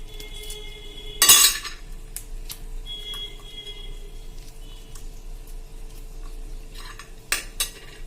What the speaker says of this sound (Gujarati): ખાલી ચમચીનો પાછળના ભાગથી તમે મકાઈને આવી રીતે કરશો ને એટલે બધા દાણા ઉપર આવી જશે